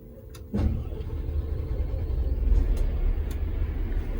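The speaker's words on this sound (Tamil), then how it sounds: "இனி தான் இனி பஸ்ஸை ஸ்டார்ட் பண்ணணும்" A bus engine starts inside a depot in France: a sudden catch followed by a low, steady rumbling idle that continues to the end, fairly close, with no voices.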